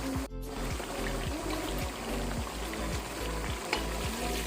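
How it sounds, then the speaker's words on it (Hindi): Rice is tipped into a pulao pot and fried while being stirred, giving a steady close sizzle with rhythmic scraping strokes of a spoon against the pot, continuing throughout. "तो अब चावल शामिल कर लेते हैं।"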